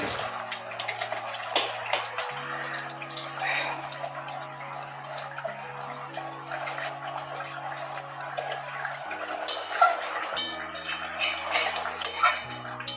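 Bengali pabda fish and eggplant curry bubbles in a pan, a soft watery simmer with occasional metallic clinks of utensils and lid, under steady background music.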